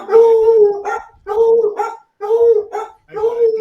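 A blue tick hound howls in four drawn-out, wavering cries with short gaps between them, loud and close.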